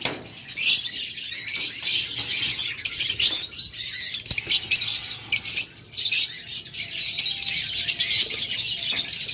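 Pet lovebirds, budgerigars and cockatiels, including a yellow pair, fill the air with dense, continuous chirping and twittering, many birds calling at once, close and loud throughout.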